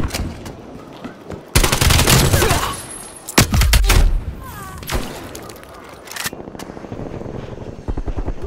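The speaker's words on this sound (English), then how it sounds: "Hostile attack helicopter inbound." Video game battlefield with an attack helicopter overhead amid loud bursts of automatic gunfire and explosions, the rotor drone mixed under repeated rapid firing.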